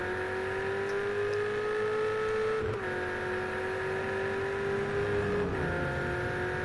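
A GTE race car in the Project Cars 2 video game screams through a qualifying hot lap, its engine whining in a sustained high drone that drops sharply twice at gear changes before climbing again, loud and continuous.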